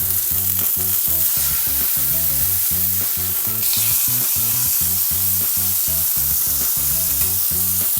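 Beef steak sears in a hot frying pan with a loud, steady sizzle and crackle that goes on without a break, and no voices.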